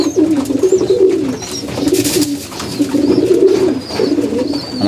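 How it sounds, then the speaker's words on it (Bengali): Pet pigeons cooing close by while they feed, repeated throaty coos rising and falling in rhythmic phrases. "আমাদের কবুতর দেখতে পাচ্ছেন খাবার কীভাবে খাইতেছে।"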